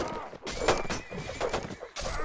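A horse neighs within a video game battle, several whinnying calls breaking out in bursts with hoof clatter between them and a commentator talking over the action.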